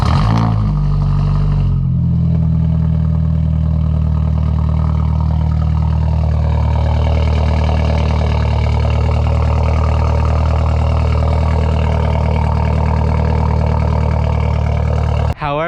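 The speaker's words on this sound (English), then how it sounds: "It went from a super loud and raspy exhaust note to a still very loud exhaust note." A Stage 2 Mercedes CLA with HKS mufflers roars loudly at a sustained high idle, deep and rumbling throughout, with a brief change in tone near the start.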